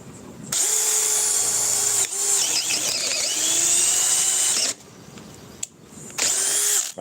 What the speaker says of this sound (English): That's why this drill's good.